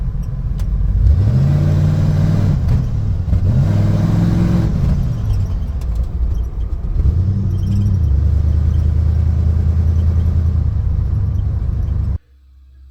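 1986 Ford Bronco engine running rough while driving, a loud rumbling drone whose pitch surges and sags in repeated dips as the motor momentarily cuts out, then an abrupt drop near the end; no voices.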